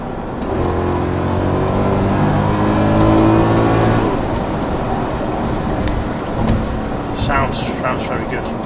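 A 2007 Mercedes CL63 AMG engine pulls hard under acceleration for about four seconds, its deep harmonic drone rising steadily in pitch, then settles into a rougher, broadband cruising roar with wind noise inside the cabin.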